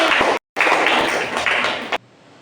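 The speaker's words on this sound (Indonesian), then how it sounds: "beri aplaus meriah untuk kelompok B" Brief burst of applause for a group in a classroom session, dense close clapping lasting under two seconds around a short gap, then falling away to quiet room tone.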